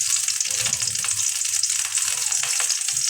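Onion, garlic and ginger paste sizzles in hot oil for a meat curry, a steady bright frying hiss running close and unbroken with faint stirring bumps underneath.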